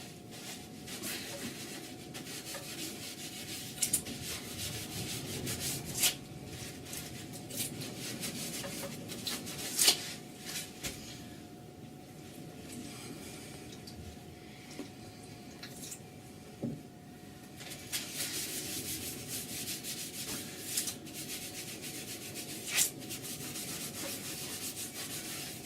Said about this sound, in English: Just put it onto my kitchen towel. And start to remove the liming wax.